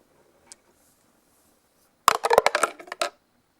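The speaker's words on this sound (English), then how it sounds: "So let's go roll the dice to see which option we get." Dice rolling during a board game, a quick burst of hard clattering clicks and taps lasting about a second, close and fairly loud, after near silence broken by one faint tick.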